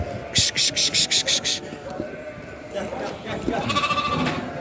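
A rapid run of high, pulsing bleats from a lamb at feeding time around a feed trough, then quieter bleating later, close by amid background clatter.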